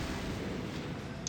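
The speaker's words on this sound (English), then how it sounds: "We hadn't gone very far before I heard another explosion from behind us." Explosion sound effect in the video game Sweet Fuse, a sustained, rumbling blast that fills the moment at a low, fairly faint level.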